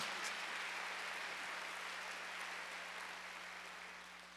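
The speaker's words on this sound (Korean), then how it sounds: "박수로 하나 드리세요" A Korean church congregation at a Wednesday worship service applauds in a steady, diffuse wash of clapping that fades slightly toward the end, with a low hum beneath it.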